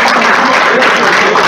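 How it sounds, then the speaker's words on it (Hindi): A university audience applauds during a speech, a dense, loud and even burst of clapping from a large crowd that fills the whole brief moment. "देखो आपकी तालियां बीच बीच में आती रहेंगी"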